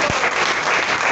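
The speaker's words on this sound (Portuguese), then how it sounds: "Você pode aplaudir ao Senhor" Church congregation applauding, a dense steady wash of clapping filling the short moment, close and fairly loud with no talk over it.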